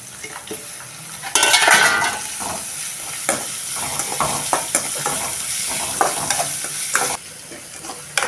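Onions and lentils fry in a pan for a raw banana pepper fry, with a steady sizzle under repeated scraping and clinking strokes of a spoon stirring against the pan, close and fairly loud.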